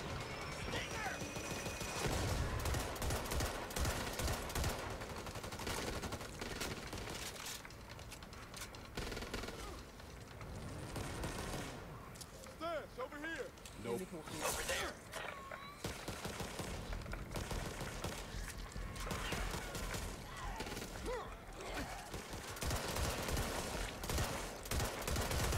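Gunfire from the zombie shooter Back 4 Blood crackles in repeated bursts, including sniper rifle shots, alongside electronic effects, with a person talking now and then over the action.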